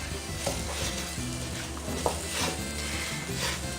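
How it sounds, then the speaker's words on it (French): Flour and tomato paste are stirred into a roux in a hot pan for a langoustine dish, a steady sizzle with a spoon scraping and tapping the pan in a loose rhythm, with no voices. "Je mets mon concentré de tomate. Cette opération s'appelle faire un roux."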